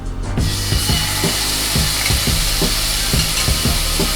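Lamb chops fry in a hot pan with a loud, continuous sizzle and crackle, joined by a steady series of faint clicks and pops.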